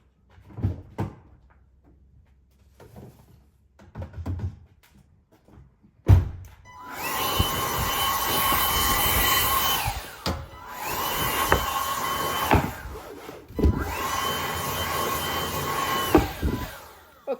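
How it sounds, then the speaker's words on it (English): A blower runs in loud, steady bursts while working on a car, starting abruptly and cutting out between runs, with a whining tone over broadband air noise; quieter handling sounds come before it. "and we get the blower."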